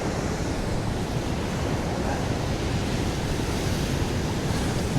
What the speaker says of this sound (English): big rolling waves.